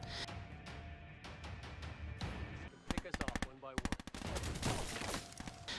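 Bursts of gunfire from The Marine 4 action film, rapid automatic volleys crackling in tight clusters amid a busy cinematic mix, loud and close in the middle stretch.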